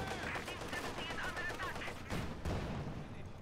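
DShK heavy machine gun fire in a real-time strategy video game: a quiet, rapid rattle of bursts over a few seconds, set back in the battle mix, with commentary audible alongside.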